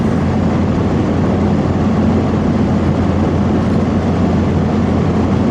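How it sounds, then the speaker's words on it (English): A Ford F-150 with the second-generation EcoBoost engine and 10-speed automatic runs at 105 mph on a test track, a steady loud roar of engine, tires and wind with no break. "Driving the EcoBoost at 105 miles an hour on a test track."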